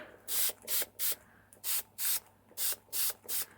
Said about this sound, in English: grab my water spray